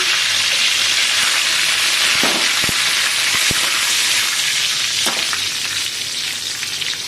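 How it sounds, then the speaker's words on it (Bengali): Dry red chillies and curry leaves hit hot white oil for a sambar dal tempering, setting off a loud, continuous close sizzle with a few brief crackles and stirring sounds and no talk. "সাদা তেল গরম হয়ে গেছে শুকনো লঙ্কা দিয়ে দিচ্ছি তেলের ওপরে কারি পাতা দিয়ে দিচ্ছি"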